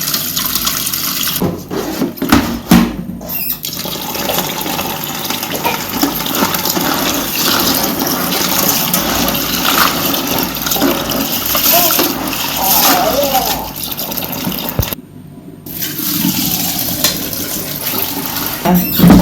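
Grain for pap (akamu, ogi) being washed in water to remove sand and dirt, a steady sloshing, gushing water sound running through most of the stretch with speech over it.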